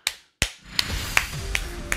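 Sharp hand claps ring out one at a time in an irregular sequence, crisp and close, over a faint steady background hum.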